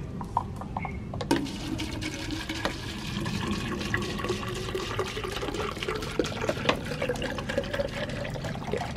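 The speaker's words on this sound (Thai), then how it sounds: "เราก็เอานี่มาปักอย่างนี้นะคะ แล้วก็ใส่น้ำ" Water runs into a one-litre plastic bottle fitted as a plant drip waterer, a steady close gurgling fill with small splashes and a brief louder onset, without any talk.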